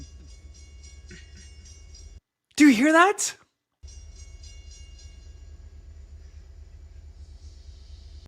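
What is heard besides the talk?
train rumbling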